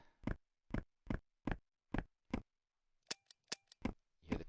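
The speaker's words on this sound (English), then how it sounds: "You hear the click of the gun." Sharp mechanical clicks of a gun in a video game demo, six evenly spaced snaps followed by a quicker burst of lighter ticks and one final click, crisp and close.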